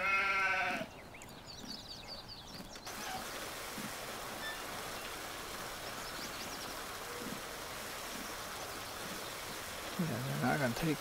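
White sheep in the Farming Simulator 19 video game bleat in scattered short calls over a soft flowing-water background, with someone speaking at the start and end.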